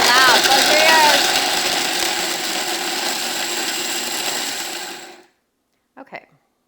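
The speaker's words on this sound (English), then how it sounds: "first we're going to put them in our Vitamix. So we're just going to grind them up first" Vitamix blender grinding ingredients for a two-ingredient vegan ice cream, a loud steady whirring motor close by for about five seconds before cutting off, followed by a brief faint clatter.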